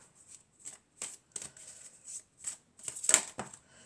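Tarot cards are shuffled close up in short, crisp riffling bursts and soft flicks, irregularly spaced, with a louder flurry near the end and no talk.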